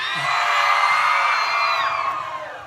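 A crowd screams and cheers loudly in one continuous, dense roar of whoops and yells. It holds steady, then fades slightly toward the end.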